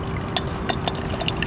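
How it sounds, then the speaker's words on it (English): Olive oil trickles slowly into a bowl while fresh mayonnaise is whisked outdoors beside a trout catch, giving soft liquid pours and light whisk clicks over a faint steady hum. "Slowly add the olive oil, very slowly."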